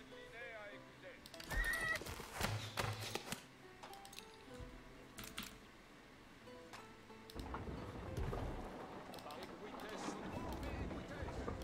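Horses in a strategy video game whinny and snort among scattered hoof clatter and other game effects, fairly faint, with someone talking intermittently over them.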